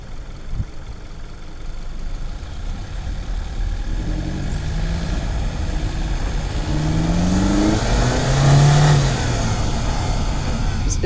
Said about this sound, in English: If you know what a turbo sounds like, you know what you'll be listening for at this point.